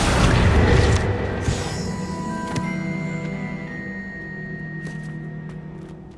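A Confringo blasting spell explodes in the Hogwarts Legacy video game, opening with a loud booming burst that rings out into a long, fading tonal tail, with no talk.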